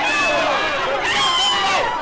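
Crowd noise at a boxing match: a dense, moderately loud wash of overlapping voices, chatter and cheering that carries on steadily through the short stretch.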